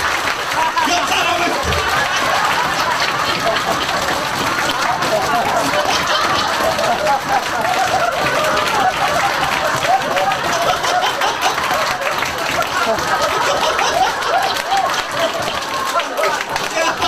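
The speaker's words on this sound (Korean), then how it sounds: "자, 박수 치면서 시작." A seminar audience claps along during a laughter-therapy exercise, with steady dense clapping running throughout under a speaker's voice and crowd chatter.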